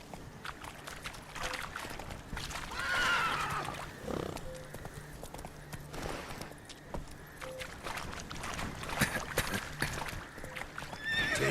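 Roach, the horse in The Witcher 3, runs with rhythmic hoofbeats and gives a neigh, moderately loud against an outdoor game ambience, with little or no talk.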